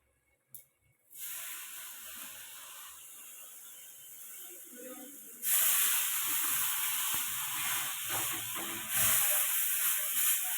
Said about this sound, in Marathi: छान असे हे पाव भाजून घेणार आहे